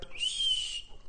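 A person imitates a whistle with their own voice, producing one sustained, high, breathy whistle of about half a second that rises slightly and then fades. The sound is fairly quiet and comes alone, with no words spoken.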